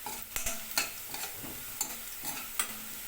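Homemade hand-pounded masala is dry-roasted in a pan for a katla fish curry, giving a faint crackle under rhythmic spatula scrapes and taps against the metal, close and without talk.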